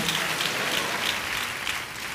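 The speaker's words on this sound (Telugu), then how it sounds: "చప్పట్లు కొడతారనుకున్నాను నేను" A church congregation claps together during a Sunday service, a dense steady wash of many hands applauding at even loudness for the whole stretch, with no voices standing out.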